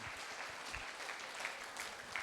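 An audience at a Hindi-language motivational seminar gives steady, dense applause, many hands clapping together without a break, heard from a little way back in the room.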